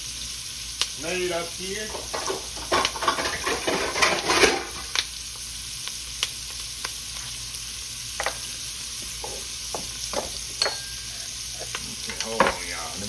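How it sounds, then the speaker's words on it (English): Onions sauté in a pot with a soft, steady sizzle, broken by scattered clinks and scrapes of a utensil. A brief stretch of talk rises over it early on. "we're going to put our onions in here. I'm going to saute them off a little"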